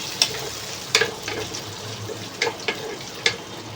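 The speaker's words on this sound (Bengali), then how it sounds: "একটু কষিয়ে নেবো, মানে যাতে টমেটোটা গলে যায়।" Tomatoes frying in a pan, a low sizzle punctuated by several sharp clacks and scrapes of a stirring utensil, close and fairly loud with no talk.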